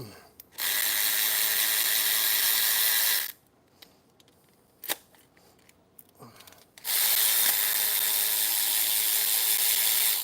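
A cordless 1/4 inch ratchet running on a low battery whirs in two long buzzing bursts of several seconds each, loud and close, with quiet clicks and mechanical clatter between them and no speech.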